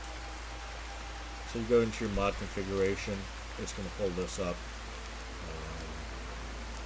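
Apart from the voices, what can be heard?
rain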